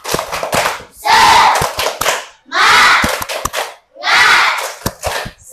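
A school class performing a rhythmic spirit clap chant, with three loud bursts of children shouting in unison punctuated by sharp synchronized hand claps and thumps between them, close and energetic.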